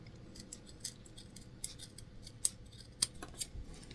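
Scissors snip through zipper tape repeatedly in quick, crisp clicks, close up and fairly quiet, with small handling rustles between cuts.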